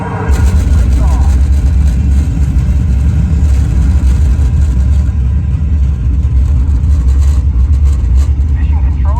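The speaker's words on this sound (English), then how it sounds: "We have main engine start. 5, 4, 3, 2, 1. Lift off." A loud, sustained low rumble from the simulated main-engine launch of the Mission Space ride at Epcot, Walt Disney World, roaring steadily close by with a voice heard over it.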